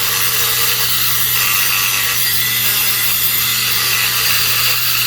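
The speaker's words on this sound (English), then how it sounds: "I'm going to save myself some time by touching it with a Dremel tool" Dremel rotary tool grinding the spinner head of an Ocean City x10 spincast reel, a loud continuous high-pitched grinding whine held steady throughout, close up and alone.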